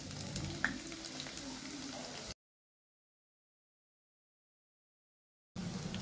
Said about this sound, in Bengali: এখন দিয়া দেবো পেঁয়াজ কুচি